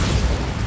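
Bombarda spell blast from Hogwarts Legacy, a loud continuous booming explosion with heavy low rumble filling the short moment, no talk over it.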